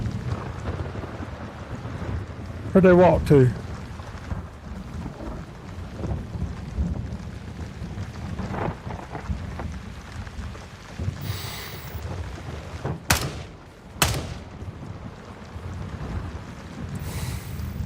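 A thunderstorm rumbles through the Gray Zone Warfare game world, with a low, rolling roar sustained throughout and a few sharper cracks and bursts partway through. A voice briefly speaks over the storm.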